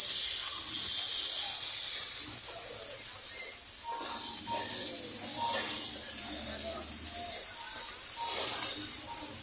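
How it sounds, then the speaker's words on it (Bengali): Ginger and garlic fry in a pan over a wood-fired stove, giving a loud, steady hiss of hot oil with occasional faint stirring sounds underneath. "আদা রসুনটা দিয়ে একটু ভেজে নিব।"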